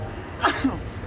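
A single short sneeze during a podcast conversation, a sharp burst standing out against a quiet, low-level room background.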